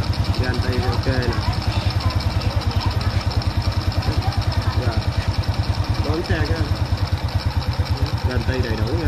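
A Honda motorcycle engine idles with a used carburetor fitted, a steady, rapid pulsing putter at even loudness, while someone talks over it.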